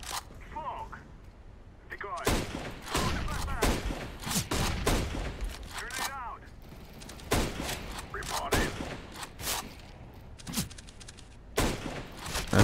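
Rapid gunshot bursts from the video game CS GO crack out in irregular clusters, loud and sharp, while someone talks over much of the action.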